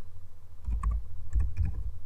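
Fingers type a pip command on a computer keyboard, a quick close flurry of soft key clicks and taps in short bursts over a quiet room.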